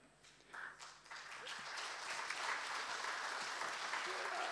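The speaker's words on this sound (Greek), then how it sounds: "Αν είναι δυνατόν τα χειροκροτήματα, όχι πιο δυνατά, λίγο πιο περιορισμένα" Applause breaks out at a talk, beginning with scattered claps that quickly build into a full, sustained round from the audience, fairly quiet overall with faint murmuring underneath.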